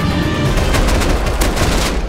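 Gunfire in the survival game Rust, a loud, rapid string of close shots with sharp cracks in quick succession, heard alone with no talk.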